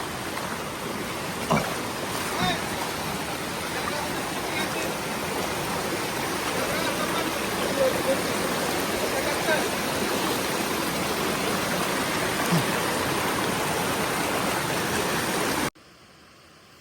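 Steady roar of a waterfall and rushing stream, loud and continuous, with broadband water noise that cuts off abruptly near the end.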